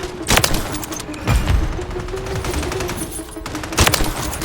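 KAR98K bolt-action rifle fire in Call of Duty Warzone: a few sharp, loud single shots spaced apart, the first and last crisp cracks over a low background rumble with no talk.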